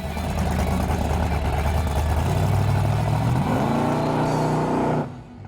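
A 1964 Ford Fairlane 427 Thunderbolt V8 drag car revs loud and close, its deep engine note climbing in pitch and holding before cutting off abruptly near the end.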